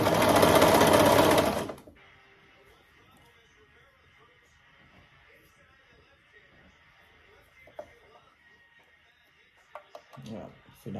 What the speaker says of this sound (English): So the serger cut it off.